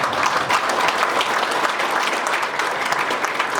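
Steady audience applause fills a lecture hall as guests, including a former education minister, are asked to stand; the dense clapping stays even and close throughout with no voices on top.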